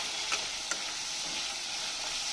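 Onions sizzling steadily in hot oil over a medium-low flame while frying to light golden brown, a continuous frying hiss with a couple of light stirring clicks.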